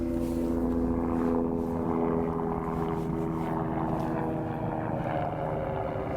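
A propeller tour aircraft drones overhead near the Parthenon, a continuous, fairly loud engine hum that holds steady throughout with no talking.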